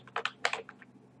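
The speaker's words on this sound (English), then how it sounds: "You tap the Windows key on the keyboard and type defragment." A handful of quick keypresses on a computer keyboard, tapped in two short bursts with a few lighter clicks trailing off, close and fairly quiet with no talking.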